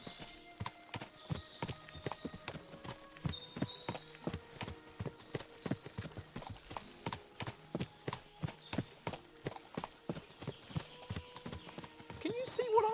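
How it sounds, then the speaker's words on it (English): Hooves of several horses clip-clopping in the medieval game Kingdom Come Deliverance 2, a steady walking rhythm of distinct clops throughout with a whinny near the end, while voices talk over it. "What a lot of horses!"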